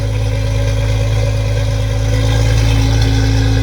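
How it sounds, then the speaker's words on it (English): A Porsche Boxster engine idles steadily and evenly after a timing chain tensioner replacement. The low hum is loud, close and continuous, with no rattle or stumble, and no one speaks. "It's idling steadier than it used to."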